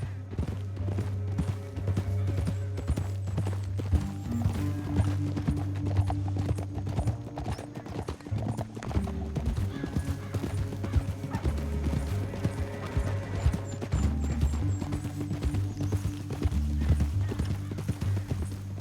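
Horses gallop through a canyon in the Western video game Red Dead Redemption, with a steady drumming of hooves and an occasional whinny over a low, droning music score.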